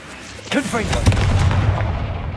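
A Confringo blasting spell in Hogwarts Legacy detonates with a deep rumbling boom that lingers under a shouted voice and game effects, loud and close.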